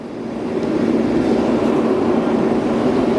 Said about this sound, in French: Regardez le train là.